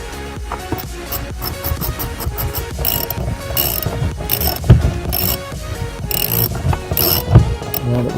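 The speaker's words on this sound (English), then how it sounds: "now we can just tighten up the bolts" A hand ratchet tightens bolts on a countersunk fitting, giving rapid mechanical clicking and pawl ticks throughout, close and fairly loud, with a few sharper knocks along the way.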